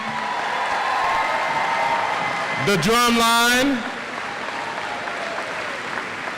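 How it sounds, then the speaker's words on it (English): Steady applause and crowd noise fill the room at a high school commencement, with a brief loud voice or sound swelling in the middle before the clapping continues. "Let's give another round of applause for our Dubuque Senior High School band"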